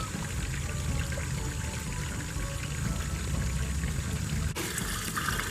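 Water runs through newly repaired household plumbing as a steady, continuous pouring stream, close and even throughout, with a brief shift in tone near the end. No voices are heard.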